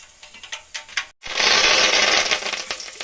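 Mustard seeds hit hot oil for an avaraekalu masala upittu and burst into a loud, dense sizzle after a few scattered pops and a brief pause, then crackle steadily close up with sharp spits.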